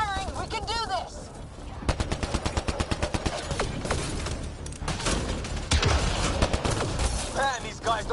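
Rapid bursts of automatic gunfire rattle through a Mass Effect Andromeda battle, steady volleys mixed with heavier thuds, while voices shout over the din throughout.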